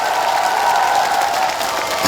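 An outdoor festival crowd applauds at a trot singer's concert in Gumi, a broad sustained wash of many hands clapping at once, steady and fairly loud throughout, with a faint murmur of crowd noise underneath.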